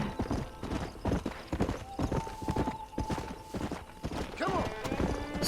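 Rapid, rhythmic hoofbeats of a galloping horse pound continuously throughout, with a brief whinny near the end over the Red Dead Redemption soundtrack.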